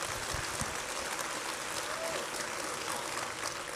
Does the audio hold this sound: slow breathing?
no